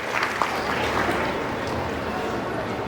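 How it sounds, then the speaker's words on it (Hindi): Audience applause at a school annual function greets the chief guest: a steady, dense wash of clapping from a large crowd that holds for the full length, with some voices mixed in. "जोरदार तालियों के साथ सर का अभिनंदन करते हैं।"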